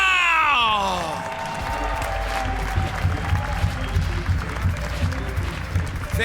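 A festival crowd at a men's BMX finals event in Tallinn, Estonia applauds and cheers for the announcer, a broad steady wash of clapping and whoops that swells after a voice introduces him.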